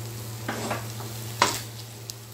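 Ragi halwa cooks in ghee in a pan, a soft steady sizzle with a few spoon scrapes and knocks against the pan, fairly quiet and close.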